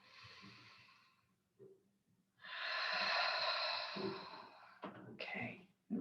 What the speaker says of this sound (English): Okay, take a deep breath.